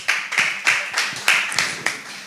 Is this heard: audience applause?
yes